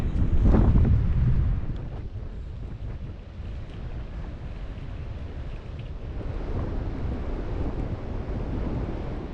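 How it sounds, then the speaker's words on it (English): Strong gusty wind on a North Sea beach at Sankt Peter-Ording buffets the microphone with a heavy rumble, loudest at the start, over a continuous roar of surf close by. "it has become very windy"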